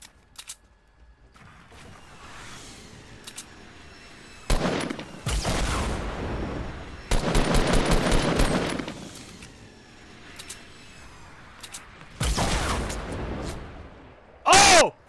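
Fortnite Battle Royale match with bursts of gunfire and sniper shots: several loud sustained volleys of rapid shots between quieter stretches, and a final sharp burst at the end, with players talking over the game.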